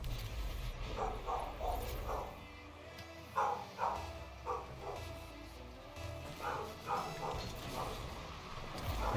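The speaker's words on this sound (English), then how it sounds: "Why is my dog freaking out?" A dog barks in short clustered bursts of two or three yips, fairly close, over a low background rumble inside what sounds like a car, with a person speaking in between.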